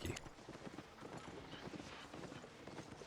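Faint, steady clip-clop of donkey mount hooves trotting along a path in Albion Online, soft and regular over light wind-like background noise.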